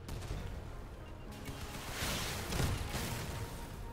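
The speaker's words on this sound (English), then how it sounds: "Ah, cannons." Cannons firing in the vehicle combat game Crossout, a few heavy booming blasts that swell in the middle over a rumbling battle background, moderately loud.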